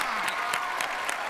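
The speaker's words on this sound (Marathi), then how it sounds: "जोरदार टाळ्या आमच्यासाठी." Audience applause at a comedy stage show, a dense, steady patter of many hands clapping at moderate volume throughout with a few sharper bursts.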